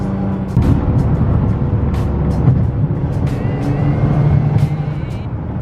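A Nissan GT-R drives fast on the road, its engine and road roar a loud, steady rumble from inside the cabin with a few sharp knocks and rattles.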